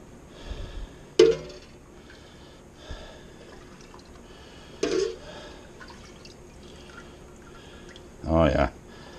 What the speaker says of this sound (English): just rinsing out here in the water.